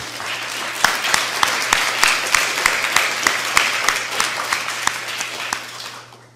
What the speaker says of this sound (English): I want to give a round of applause to the volunteers